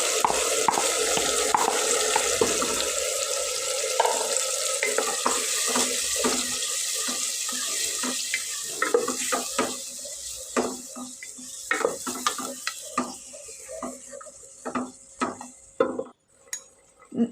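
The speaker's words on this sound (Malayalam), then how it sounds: "അപ്പോൾ അതും കൂടി ഒഴിച്ച് കൊടുത്തിട്ട് നന്നായിട്ടൊന്ന് ഇളക്കി കൊടുക്കുക." Madhooth mixture is stirred in a pressure cooker pot, giving a wet, sloshing churn with a run of rapid scraping and clinking taps that grow sparser and more separated toward the end.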